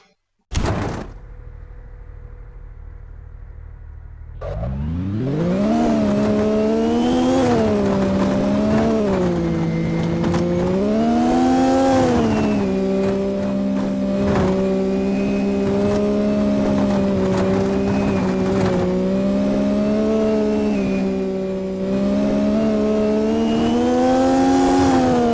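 Racing car engine in the video game The Infernus Paradise, starting with a door thunk then roaring loudly and continuously, pitch rising and falling through repeated revs and gear changes.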